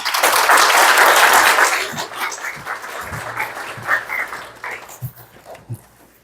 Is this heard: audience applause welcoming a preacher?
yes